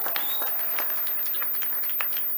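Audience applause at an opening ceremony in Oyo, dense and continuous clapping filling the room with a few sharper claps standing out, and voices faintly mixed in.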